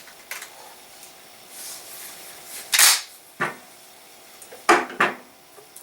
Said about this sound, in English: put your magazine cap back on.